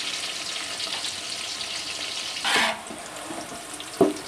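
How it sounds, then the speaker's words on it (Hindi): Sliced onions frying to golden brown in a pan for Punjabi chicken yakhni pulao, a steady soft sizzle with a brief louder hiss midway and a light clink near the end. "तो ये देखें हमारा प्याज माशाल्लाह से बहुत अच्छे से गोल्डन ब्राउन हो रहा है।"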